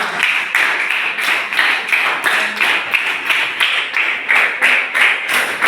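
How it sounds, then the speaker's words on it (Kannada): A group claps for a team in a school physical education activity, a loud run of sharp, fast, uneven claps in short bursts that swell and dip without pause, with no talking over them. "ಅವರಿಗೂ ಕೂಡ ಚಪ್ಪಾಳೆಯನ್ನ ತಟ್ಟಬೇಕಾಗಿ ಕೇಳಿಕೊಳ್ತಾರೆ"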